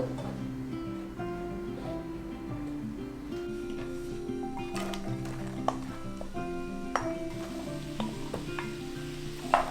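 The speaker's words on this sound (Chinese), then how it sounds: "我们接下来就把那个蘑菇跟马铃薯下去，把它炒到金黄色。" Mushrooms and potatoes stir-fry in oil until golden for a vegan mushroom soup. A soft, steady sizzle sits under background music, with a few sharp clinks of a utensil against the pan.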